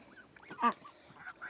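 Geese honk in short, nasal calls close by at a backyard pool built for geese and ducks, with a couple of softer calls around one louder honk.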